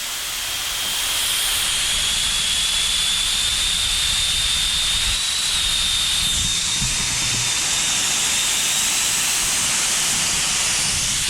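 Compressed air blasting steadily out of an air compressor tank, a loud continuous hiss like a jet taking off that holds for about eleven seconds, with a thin whistling tone riding on top.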